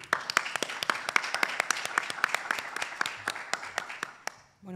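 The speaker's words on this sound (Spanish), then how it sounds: "También la recibimos con un aplauso." A small audience claps to welcome a panel speaker at an art and design event: individual claps sound as distinct, fairly sparse beats rather than a dense roar, and they fade out near the end.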